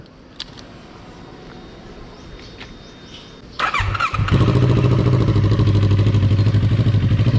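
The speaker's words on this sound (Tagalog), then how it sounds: "Para sa big bike, mahina yung ganyan tunog na naka-exhaust." A big motorcycle fitted with an Italian titanium IXRace exhaust and silencer starts up after a few clicks, catching with a clatter and settling into a loud, steady, close idle rumble.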